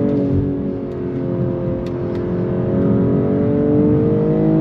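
A 2022 BMW M240i with xDrive accelerates hard, its engine droning and rising steadily in pitch, loud and close from inside the cabin, with gear shifts marked by brief breaks in the rising whine.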